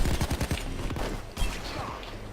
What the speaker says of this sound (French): Watch out! Sniper!